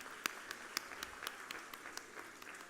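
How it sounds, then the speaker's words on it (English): Audience applauding prize winners at a FORCEPS 2022 ceremony, heard as sparse, faint scattered claps at a distance in a quiet room. "now a big round of applause for all of them."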